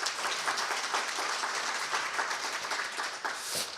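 An audience claps steadily to open a Korean policy seminar on preventing financial crime. The dense, even applause lasts a few seconds, fairly near, with no talking over it.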